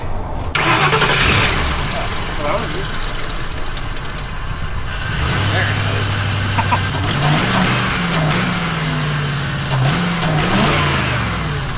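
An old Oldsmobile that sat unused for a year, with new points and a rebuilt head, cranks, catches and revs up, then runs rough at a fluctuating idle, close and loud.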